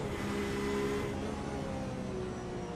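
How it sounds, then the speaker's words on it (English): A Porsche race car engine drones steadily around the Interlagos circuit during a GT Masters three-hour event, a continuous loud, dense mechanical roar with sustained tonal whine and no clear shifts or passes. "listen to the sound of this Porsche as it goes around the Interlagos circuit"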